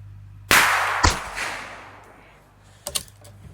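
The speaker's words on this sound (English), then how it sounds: "Paul J hears a gun shooting." A rifle fires outdoors, one sharp loud crack followed by a long decaying echo, then a smaller snap and a couple of faint clicks trailing off.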